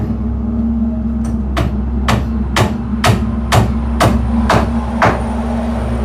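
Hammering as something is driven in: nine or ten sharp, evenly spaced blows at a steady rhythm, close and loud, over a constant low mechanical hum.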